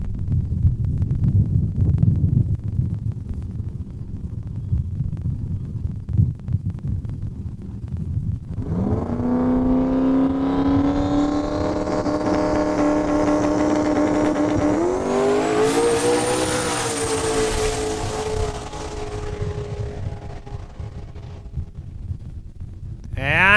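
Drag race car making a single pass at Saskatchewan International Raceway: a low idle rumble gives way to a loud launch, the engine screaming higher through gear changes and holding a piercing whine before fading, with a voice talking over it.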